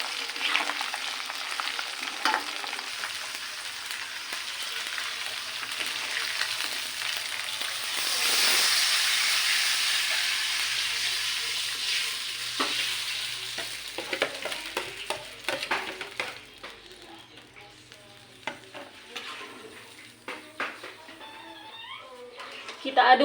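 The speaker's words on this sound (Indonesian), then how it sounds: "Ini kita masak dulu sampai si cabenya itu tergoreng" Chili fries in a pan while squid cooks, a steady hiss and crackle with a stirring swell midway, and talking over it throughout.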